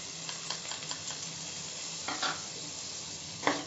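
Beaten yogurt added to a pan of frying garlic paste and chilli, hissing and sizzling steadily up close, with stirring scrapes and occasional utensil clinks.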